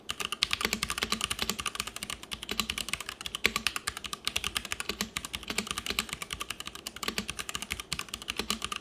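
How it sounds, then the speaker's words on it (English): Steady typing on a Womier mechanical keyboard fitted with brown Gateron switches in a 5-pin PCB, producing rapid, even clacks close to the mic with no talking. "We'll pause here and do a quick typing test so that you can hear what these Gatoron brown switches sound like."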